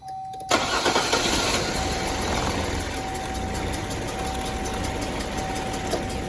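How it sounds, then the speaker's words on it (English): Car engine cranking briefly, catching and starting, then settling into a steady, loud, close idle with a faint whine running through it. "So hopefully we can just get a crank and see what the compression is."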